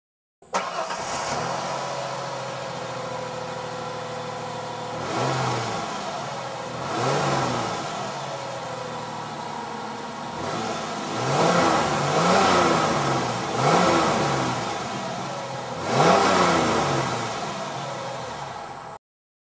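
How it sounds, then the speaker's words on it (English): A 1995 Mazda B4000 pickup on its stock exhaust idles steadily, then is revved several times in repeated rising-and-falling bursts, each swelling louder before settling back to idle, with no one talking. "this is how my truck sounds now with just stock exhaust on."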